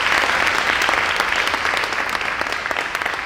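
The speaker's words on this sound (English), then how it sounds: "So please give another round of applause to Tabo." An audience at a poetry night claps for a performer, with dense, sustained applause filling the room at close range and slowly thinning toward the end.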